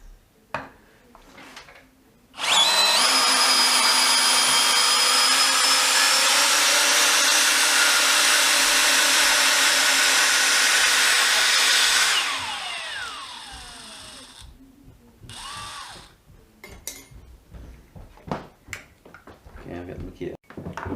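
A DeWalt DCD701 12V brushless drill removes screws with a loud, continuous high-pitched whine for about ten seconds, then winds down. Clatter and handling noises follow, and someone talks before and after the run.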